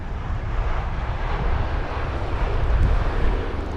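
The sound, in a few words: aircraft reverse thrust at London Heathrow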